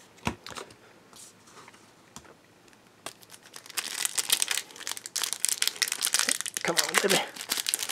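A trading card booster pack from a base set box is opened by hand, its foil wrapper crinkling and tearing. The crinkling starts in sparse bursts, then grows dense and loud, with a voice speaking briefly over it.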